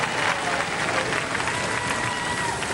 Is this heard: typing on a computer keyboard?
no